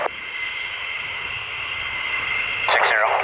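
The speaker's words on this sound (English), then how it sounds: "We're going to get loud. We're going to get noisy. Bring on the Afterburners." Military jets with afterburners at Lakenheath produce a loud, continuous roaring rush that holds steady and swells near the end, with a faint voice briefly audible.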